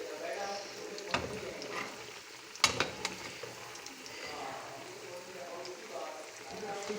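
Pakoras frying in desi ghee in a pan, a steady low sizzle with a few sharp clinks and knocks from utensils, while someone talks over it.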